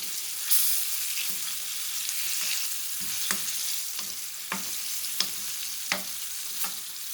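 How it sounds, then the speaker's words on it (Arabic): A fish fillet fries in a pan with a continuous close sizzle, broken by soft clinks and scrapes from a utensil as it is handled and turned, and no one speaks. "قلبته على الناحيه التانيه كده لغايه لما يستوي الناحيه التانيه ويتقلي"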